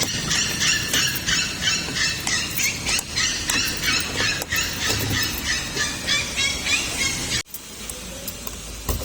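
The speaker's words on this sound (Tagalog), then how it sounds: "May maingay na tuta." A puppy yips and barks rapidly in high, shrill bursts, close and loud, continuing almost nonstop before a brief break.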